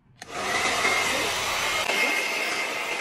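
A hot-and-cold hair dryer switches on with a click and blows steadily, a loud, continuous airy whoosh that holds for the rest of the clip.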